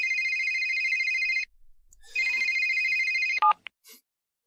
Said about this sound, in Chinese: 你给麒麟小兄弟打个电话